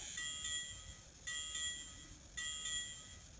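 A Digitrax N scale model train sound decoder bell, installed in a Kato FEF-3 4-8-4 locomotive, rings three times at a steady, even pace, each ding bright and metallic and fading slowly, over a low hum.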